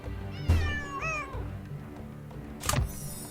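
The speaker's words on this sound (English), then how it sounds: "There's that cat again." A cat in Nancy Drew: Lights, Camera, Curses gives a clear, close, rising meow, followed by a soft thump and a quieter second cry.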